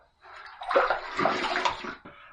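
Running tap water rinsing a shaving razor, a loud close splashing gush that starts abruptly, holds for about two seconds and then cuts off, with no talk.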